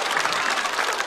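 A comedy-show audience claps in a brief, dense, even burst of applause that fills the room.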